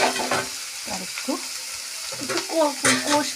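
Onions frying in a pan hiss steadily beneath clear nearby talking, with a few scraping stir strokes breaking through the bright sizzle.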